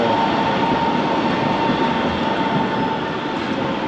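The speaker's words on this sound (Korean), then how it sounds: "우리가 탔던 지하철이 여기 지금 지상에 있네" A subway train running above ground in Germany, a loud steady rumble and rail roar filling the whole stretch with a faint tonal whine, heard from on board without pause.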